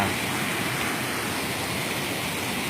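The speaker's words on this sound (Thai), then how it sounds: "มีลำธารไหลผ่านหน้าบ้านนะครับ เป็นลำธารน้ำใสเจ้า" A clear mountain stream flows past a house at Doi Tai Laeng, making a steady, even rush of water close by, with no other sounds standing out.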